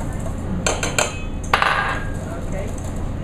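Egg yolk, milk and cornstarch being mixed in a bowl, with a few sharp utensil clinks and taps against the bowl over a low background hum, close and clear.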